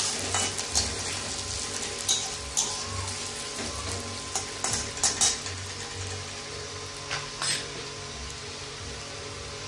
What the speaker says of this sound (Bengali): পেঁয়াজগুলো ভাজা ভাজা হয়ে গেল,